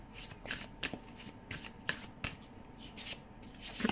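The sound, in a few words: shuffling tarot cards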